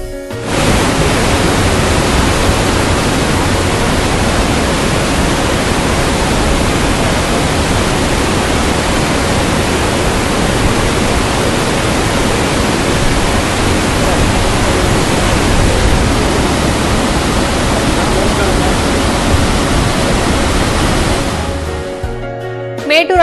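Water gushes through the 16 sluice gates of Mettur dam, a loud, steady roar of rushing flow that holds unbroken for over twenty seconds before cutting off at the end.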